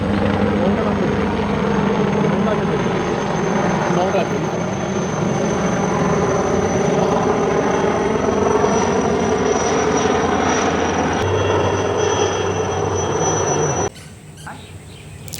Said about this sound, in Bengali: এয়ারফোর্সের চপার মাথার উপর দিয়ে উড়ে গেল